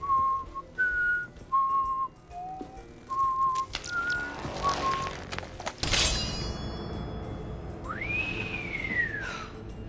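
A person whistles a series of short, clear tonal notes, then a longer sliding whistle, with some clatter and background noise between phrases.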